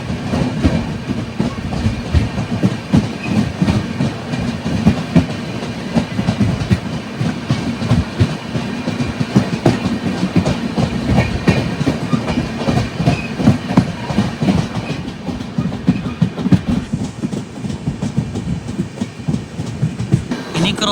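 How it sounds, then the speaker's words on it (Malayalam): An overnight Tutari Express with ICF coaches, running from Dadar to Sawantwadi Road on the Konkan Railway during the monsoon, gives a loud, steady rumble and rapid clickety-clack of wheels on rail joints that continues throughout. "ഇതാണ് തുറ്റാരി എക്സ്പ്രസ്. ഇതൊരു ഓവർനൈറ്റ് വണ്ടിയാണ്."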